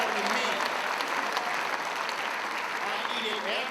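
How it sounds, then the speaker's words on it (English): A convention hall crowd at an Oxford House gathering applauds in a continuous, even wash of clapping from many hands, with faint voices and a few calls rising through it toward the end. "let's have a round of applause for them"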